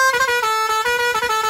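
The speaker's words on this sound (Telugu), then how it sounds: "అబ్బా ఒకసారి హారన్ హారన్." A vehicle horn blares in a sustained musical honk with a few quick pulses, loud and close, no other sound around it.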